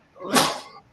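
A single sharp sneeze bursts out close by inside a locomotive cab, brief and breathy, then fades away.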